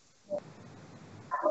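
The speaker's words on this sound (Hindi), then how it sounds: "पीछे से कुत्ते की भौंकने की बहुत आवाज आ रही है।" A dog barks faintly in the background over a thin, narrow phone-like line, two short distant barks about a second apart against low steady noise.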